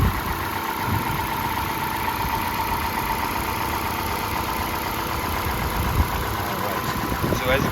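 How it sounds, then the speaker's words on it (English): A 2012 Ford Fusion SE engine idles steadily with the hood open, a smooth, even hum heard up close in the engine compartment, with no knocks or irregular noises standing out. "it is a very smooth running engine"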